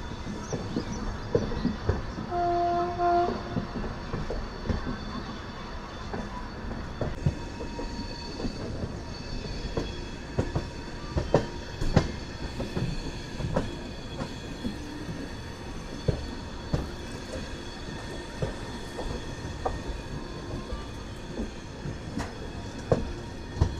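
A train rolls through a curve into Katpadi junction, wheels clattering in irregular clicks and thumps over a continuous rumble, with faint squealing tones along the way.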